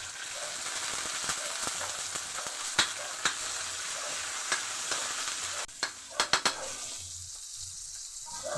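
Garlic and onion sauté in a pan with a soft, steady sizzle, broken by several sharp clinks of a utensil stirring against the pan.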